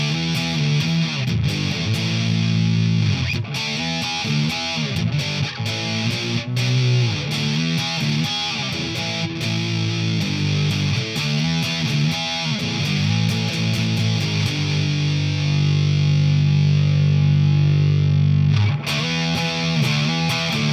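Electric guitar played through a Behringer OD300 overdrive and distortion pedal, loud crunchy chords and riffs ringing out continuously with sustained gritty tone and a long held chord near the end, no voices.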